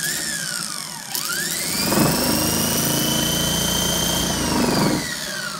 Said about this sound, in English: Fast running motor